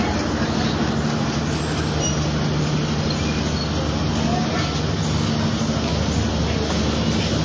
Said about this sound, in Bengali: ট্রেনটি বারবার থেমে থেমে যাচ্ছে।